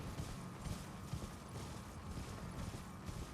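A horse's hooves clopping in the video game Elden Ring, a steady rapid rhythm of muffled thuds under a dense game soundscape, with no talk in the short stretch.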